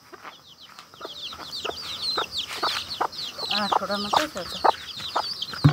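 Backyard chickens cluck busily and close by in a rural Nepali home yard, with quick repeated calls that build over several seconds while someone speaks briefly in between.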